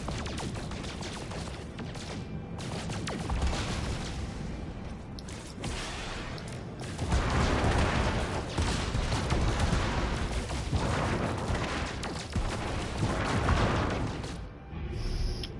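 A photon cannon fires continuously in the space game No Man's Sky, a dense stream of blasts and booms that keeps going for the whole stretch with no talk.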